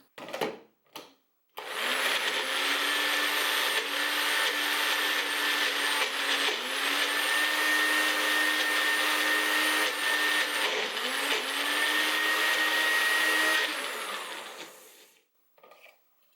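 A Magic Bullet personal blender whirs loudly and steadily for about twelve seconds on thick food, its motor pitch dipping and straining now and then, followed by a few short clunks at the end.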